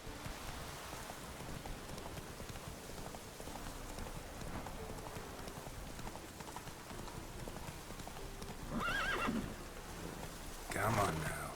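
Roach, a horse in The Witcher 3, galloping in rain, a steady drumming of hooves mixed with rainfall, with a voice speaking over it near the end.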